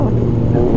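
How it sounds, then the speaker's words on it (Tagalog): Big bike motorcycles roaring past on a road on a Sunday ride, a loud, deep continuous engine rumble filling the short moment with no talk. "Kaya lang kasi dahil nga big bike yan, di maiiwasan talagang mag-iingay"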